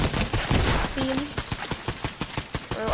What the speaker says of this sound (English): He's shooting me a bit.